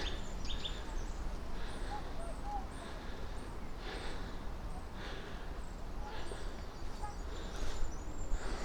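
Faint, intermittent bird chirps repeat in a bluebell wood over a steady outdoor hiss, with the calls thin and somewhat distant.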